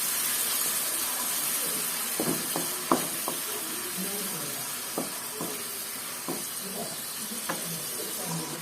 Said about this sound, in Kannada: ಒಂದು ಚೂರು ಪೊಟ್ಟು ಫ್ರೈ ಆವಡು